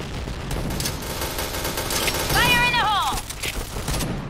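Gunfire in a video game, a rapid clatter of shots under a busy game soundscape, with a rising-falling tonal whine briefly cutting through midway and a voice speaking in the background.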